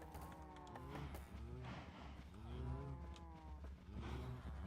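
Several penned farm cows in a block-building game moo repeatedly, overlapping low drawn-out calls at close range with steady ambient background and no talk.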